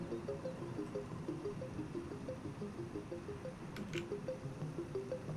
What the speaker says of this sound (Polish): Ta woda spływająca po ścianach i jeszcze jak się odbija yy, na podłodze.